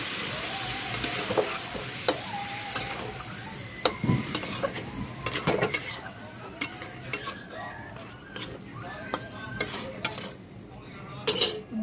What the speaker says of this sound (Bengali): এবার যে পুঁই শাকটা আমি সেদ্ধ করে রেখেছিলাম সেই পুঁই শাকটা আমি দিয়ে দেবো